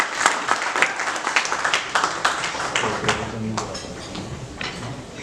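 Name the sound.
audience applause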